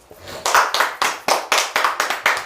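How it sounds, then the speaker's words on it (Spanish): Congregation at a church service clapping to God in a steady rhythm, about eight loud, crisp group claps in a row, close and with no talking. "Aplauso a Dios"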